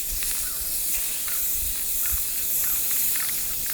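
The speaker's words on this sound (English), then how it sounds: "And here I am spray painting." A skateboard deck being spray painted, with a continuous loud aerosol hiss held close and steady and faint clicks and rattles under it.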